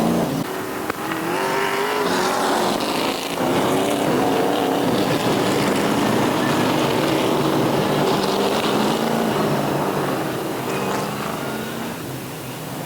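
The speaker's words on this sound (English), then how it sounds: "That Dave Getchell, he's got quite the exhaust popping sound going on" A race car engine roars loudly and steadily, with rough crackling from the exhaust layered over the sustained drone.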